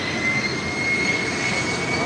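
A Bombardier Global 5000 business jet at SJU airport, heard as a steady, far-off engine roar with a thin high whine riding over it. The roar lasts about two seconds with no speech.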